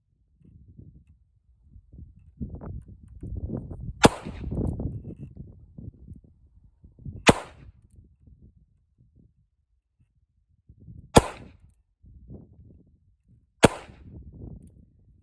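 Four sharp shots from a Ruger LCR 22 Magnum double-action revolver at an outdoor range, spaced a few seconds apart, each a crisp loud crack, with quiet speech and rustling in between.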